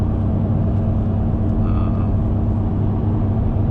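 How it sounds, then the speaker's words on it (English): A 2013 Duramax pickup truck drives along, its engine and road noise forming a steady, loud low rumble that stays even throughout, heard from inside the cab. "Driving around in the Duramax."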